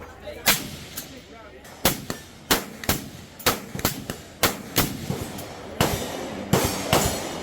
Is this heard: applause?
no